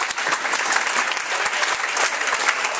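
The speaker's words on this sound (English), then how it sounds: "Let's have a huge round of applause for Kanzy Emad El-Defrawy." Steady applause from an indoor crowd after a professional women's squash match at the US Open, dense clapping continuing without pause throughout.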